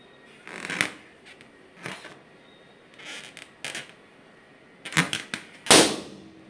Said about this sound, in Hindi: तो इसे भी नेल से ही ब्लास्ट करना